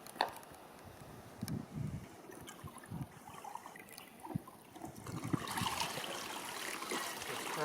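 Water pouring and trickling from a Maytronics Dolphin Nautilus CC Plus robotic pool cleaner as it is lifted out of a pool, with uneven splashing and dribbling that grows into a steadier, louder gush toward the end.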